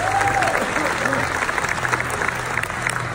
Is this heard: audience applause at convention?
yes